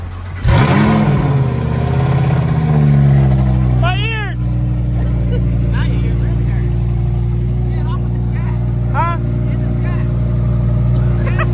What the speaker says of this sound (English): Can I get a cold start?